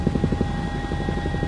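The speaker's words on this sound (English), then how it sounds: "helicopters flying in like this" Rhythmic thudding of helicopter rotor blades close by as it flies in during a fire call, a rapid steady chop over a low engine drone with a thin whine above.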